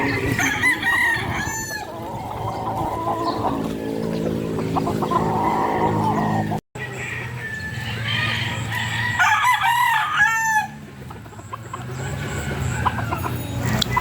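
A broodcock rooster crows loudly nearby, pauses briefly, then crows again, with clucking hens and yard noise around it.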